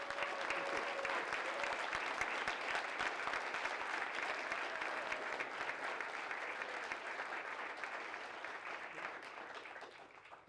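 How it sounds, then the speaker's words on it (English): A debate audience gives a sustained round of applause to two debaters, Vivek Ramaswamy and Ro Khanna, a dense, even patter of many hands at a soft, distant level that continues for about ten seconds. "can we just give a round of applause to these two gentlemen for doing this?"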